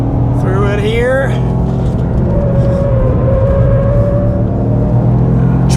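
A 2024 Toyota GR Yaris is driven quickly around a race track with traction control off, its engine a steady loud drone and pitch sweeping as it accelerates, with someone talking over it.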